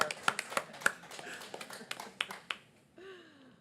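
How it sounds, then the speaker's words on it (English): Council meeting attendees clap in a short burst of sharp, scattered hand claps up close, then fade out, with a voice speaking briefly afterward. "Can we clap for that?"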